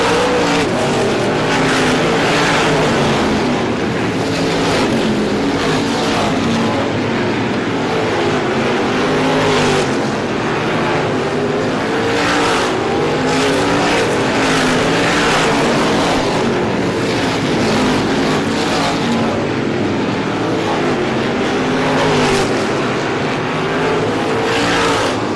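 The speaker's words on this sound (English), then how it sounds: "A full straightaway lead for the race leader, John McKenna." Race cars at Star Speedway's ISMA Classic 150 roar continuously around the oval, a dense, loud wash of engine noise with cars sweeping past, unbroken for the whole stretch.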